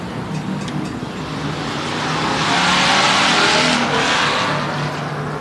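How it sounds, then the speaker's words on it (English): Race cars roar around the track at Turkey Night, their engines swelling louder as they pass close by and then easing off, alongside continuous engine and tire noise with no voices. "Kyle Woods in the 21 car is going to get penalized for going through the infield full speed."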